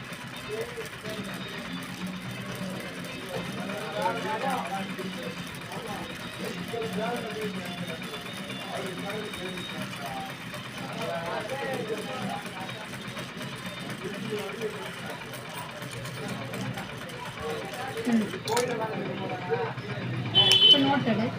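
A sewing machine stitches cloth with a steady mechanical whir and faint rhythmic clatter throughout, fairly quiet and close, with people talking over it in a small room.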